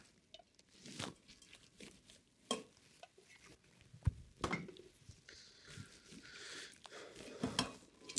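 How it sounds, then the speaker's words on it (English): A mirepoix of carrots, onions and celery is tipped into a pan. Scattered faint scrapes, knocks and crunchy rustles come at irregular intervals with quiet gaps between them, and no one speaks. "And then I'm gonna go ahead and add in my vegetables."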